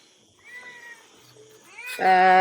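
A cat meows, with a few faint short mews followed by one louder drawn-out meow at the end, close by, with quiet talk in the background.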